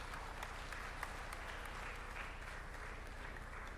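Audience applause at a convention's valedictory function, a steady, even wash of clapping that holds throughout without letting up, fairly quiet and distant.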